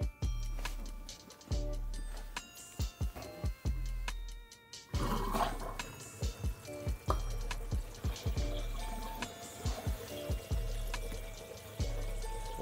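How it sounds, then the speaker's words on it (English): Water drains through a sink fitted with a newly reinstalled garbage disposal, a steady pouring rush broken by repeated low gurgling thumps and drips, close and fairly loud, with no voices. "Water drain."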